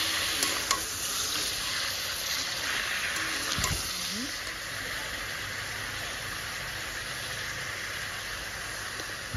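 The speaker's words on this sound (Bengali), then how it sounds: "এখন দিয়ে দিয়েছি মাংসটা।" Mutton chunks fry in a pan with onions and chillies for a Bengali mutton curry, making a strong, steady sizzle with occasional stirring scrapes, heard up close.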